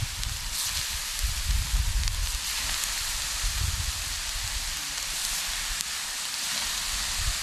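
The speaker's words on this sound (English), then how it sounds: "Oh yeah, listen to that sizzle" Close, steady sizzling and crackling of bacon frying on a hot plate, a continuous hiss with small pops, no talking.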